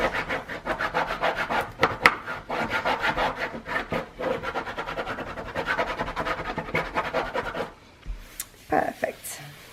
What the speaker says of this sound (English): This is a Teflon bone folder. And I'm going to go ahead and burnish this really good.